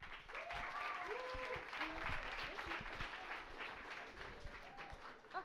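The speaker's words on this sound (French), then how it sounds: "Je leur laisse la parole, vous pouvez les applaudir." An audience applauds presenters arriving on stage, giving steady, full clapping throughout with a few higher cheers or whoops rising over it.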